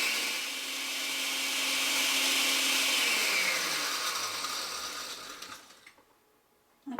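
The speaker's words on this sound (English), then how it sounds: "this here is a jar of orange peel pulverized in my blender" A blender grinds dried orange peel into powder with a loud, steady whirring roar. The motor then winds down with a falling pitch and stops near the end.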